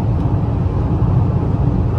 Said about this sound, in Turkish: Yani şu an yokuşta tırmanıyoruz mesela.